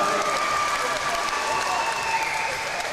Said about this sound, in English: Let's see the big round of applause for both of our fighters once more.